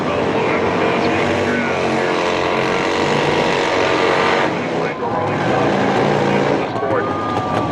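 Harley-Davidson motorcycles drag race at a dealership strip at Sturgis, their engines roaring loud and continuous with rising revs while an announcer talks over the noise.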